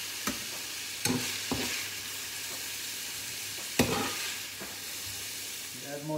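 Pork mince and seafood meatballs stir fry with fresh vegetables and spring onion in a pan, a steady sizzle broken by several sharp utensil clanks and scrapes against the pan, close by and without talk.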